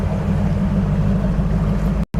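A bass fishing boat idles on the Mississippi River at La Crosse, its outboard giving a steady, loud low rumble that runs unbroken until a brief dropout near the end.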